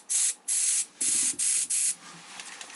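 Five short bursts of leak detection spray hissing close by onto keezer beer line fittings, each about a third of a second, followed by quieter handling noise.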